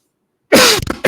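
A man gives a sudden harsh cough close to the microphone, one loud burst followed by a couple of shorter rough bursts after a moment of silence.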